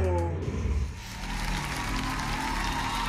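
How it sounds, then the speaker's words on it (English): Applause from a show audience, a burst of clapping and crowd noise that starts loud and then settles into a steadier wash, with some voices mixed in. "All right, the clapping. The usual in this show."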